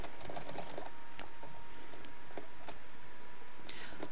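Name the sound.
sewing machine running while sewing a valance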